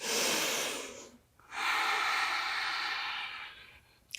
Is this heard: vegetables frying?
no